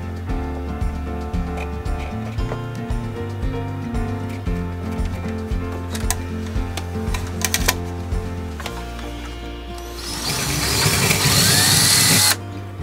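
A power drill whirs steadily, then bites into an RV wall with a harsh, louder grinding burst near the end before stopping.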